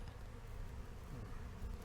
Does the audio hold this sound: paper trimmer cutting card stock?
no